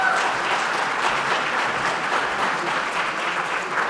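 An audience at the 23rd Annual Top Cop Awards applauds chairwoman Kathy Richards, a sustained, even wash of many hands clapping that fills the room at steady loudness from start to finish.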